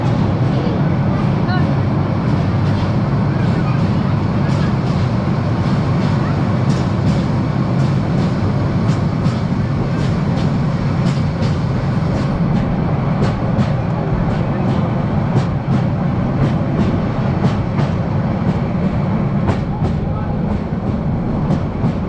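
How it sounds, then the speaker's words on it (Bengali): A train runs through a tunnel, giving a loud, steady, enclosed rumble with rhythmic clicking of wheels over rail joints throughout. "এই মধ্যে ট্রেনটি আমাদের একটা টানেলের মধ্যে ঢুকে গেল"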